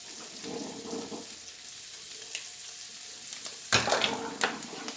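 All-purpose flour hits hot fat in a pan and is stirred in, giving a soft steady sizzle with faint scraping, then a louder burst of frying near the end, no talk.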